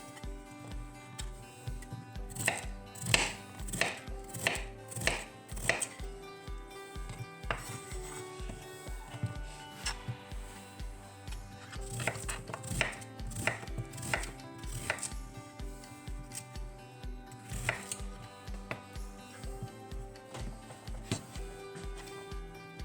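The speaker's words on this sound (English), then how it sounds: "We've cut it up into small pieces and we're going to dice it up" Steady knife chopping as daikon radish is diced on a cutting board, a fast regular run of close, crisp thuds with a few short pauses, no talking.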